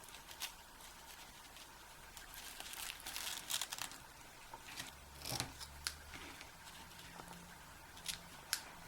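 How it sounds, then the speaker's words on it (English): Scissors snipping the ends of a silver ribbon knot on a handmade penguin snow globe Christmas card, a few quiet crisp cuts with light paper rustling in between, close and otherwise calm. "tie this in a knot and trim off the ends"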